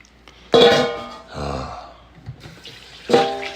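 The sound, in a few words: water poured for the dogs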